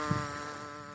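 A fly buzzes in a steady, even drone for about a second, fairly close and with no voices over it.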